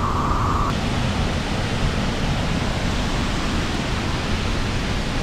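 The Falls of Falloch waterfall pours into its plunge pool with a steady, dense roar of rushing water that fills the scene evenly from start to finish. A faint, brief tone sits on top for the first moment.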